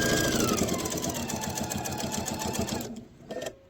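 A sewing machine stitches table runner fabric with a fast, loud, continuous whir and rattle, then slows and stops toward the end with a few short bursts of needle movement.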